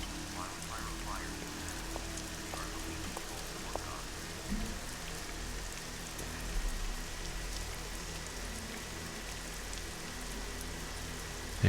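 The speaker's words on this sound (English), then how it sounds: "I love how when they show Nancy, she's like some kind of sinister shadow walking through the graveyards on a rainy night." Steady night rain in a graveyard in the Nancy Drew Crystal Skull game, a constant soft patter with a low rumbling bed, continuous and even throughout with a few faint knocks.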